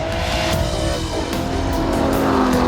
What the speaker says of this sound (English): the first thing you notice obviously is that gorgeous V12 engine